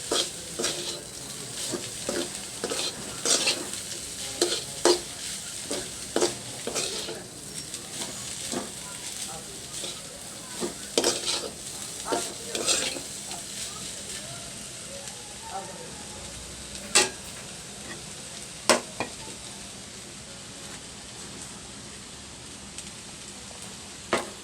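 Leafy greens (saak) stir-fried in a pan on a gas stove, a steady sizzle with repeated scraping and clinking of a utensil against the pan throughout, close and fairly loud.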